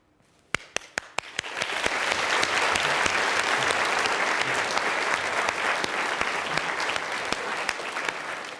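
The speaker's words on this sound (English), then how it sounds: "Now, you just very politely clapped along with me then." An audience claps along: a few isolated claps at first, then the crowd joins in a sustained burst of applause that fades slightly toward the end.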